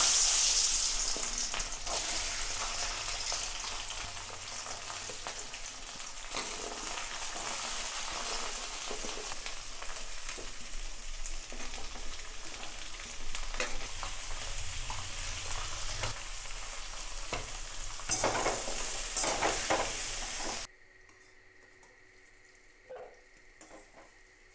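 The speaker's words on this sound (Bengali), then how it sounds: "সব সবজিগুলো আমি সর্ষের তেলে একটু লবণ হলুদ দিয়ে ভেজে নেব।" Vegetables frying in mustard oil with salt and turmeric in a pan, a steady close sizzle with stirring scrapes that cuts off near the end, leaving quiet.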